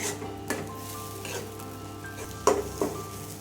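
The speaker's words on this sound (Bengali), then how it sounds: "ডালটা শুকিয়ে না যাওয়া পর্যন্ত এইভাবে নাড়তে থাকবো" Boiled masoor dal being stirred with fried onions in a pan: a spoon scrapes and clinks against the metal in irregular strokes over a low, steady sizzle, close and fairly quiet.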